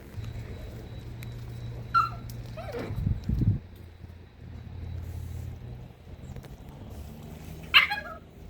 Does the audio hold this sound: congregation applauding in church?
no